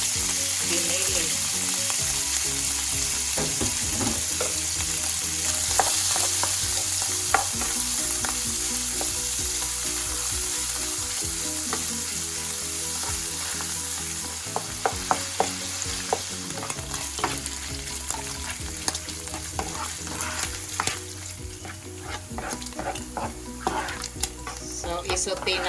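Ground pork sizzles steadily in hot oil in a cooking pan for a Filipino ginisang gulay, with frequent scraping stirs of a spatula against the pan over a continuous crackling fry, no talking.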